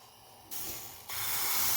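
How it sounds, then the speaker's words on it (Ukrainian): Hissing sizzle rising in steps, getting louder as crepe batter hits a hot oiled frying pan over medium heat, steady and close with no talking. "масло е, серветочкою промокнули і виливаємо тісто"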